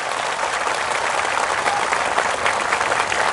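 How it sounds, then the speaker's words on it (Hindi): An audience of Tripuri people claps loudly at a public gathering, a dense, steady wash of applause that stays even for a few seconds with no speech over it. "थोड़ा जोर से ताली मारो तो तिपरासा लोग।"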